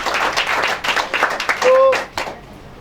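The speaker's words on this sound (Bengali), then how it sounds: "একটা বড় করে হাততালি চাই" Audience clapping at a Vijoya Sammelani gathering in Kolkata, a burst of many hands applauding for a couple of seconds mixed with a speaker's voice, fading out at the end.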